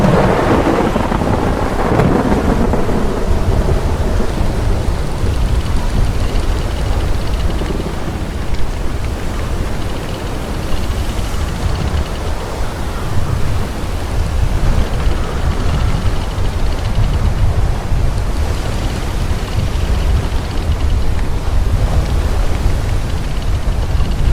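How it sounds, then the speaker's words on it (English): Strong wind in a storm at sea in WILL: Follow The Light, a loud, unbroken roar of gusting air and churning noise that holds throughout with no talk. "The wind's too strong"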